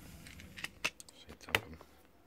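Keys jangling during lockpicking work on a Yale padlock, a few short metallic clinks and rattles, quiet and close, with soft handling noise between them.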